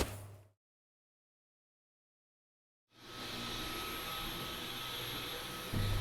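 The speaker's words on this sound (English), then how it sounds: "So I just did a second clean over with my Dyson V11" A Dyson V11 cordless vacuum cleaner runs with a steady high whine and airy roar for a few seconds after a short silence, its tone shifting slightly near the end.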